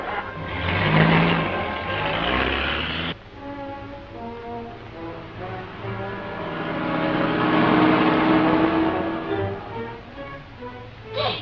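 A 1930s car pulls away and drives off, engine rumbling steadily and rising in pitch as it accelerates, loud and close, with a brief voice near the start.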